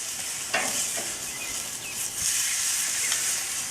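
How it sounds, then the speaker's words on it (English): A steak sears over high heat on a Char-Griller Akorn kamado grill, giving a constant close hiss and sizzle broken by a few faint pops and clicks. "I'm going to give Tanya's a quick additional sear for that wonderful well done she likes."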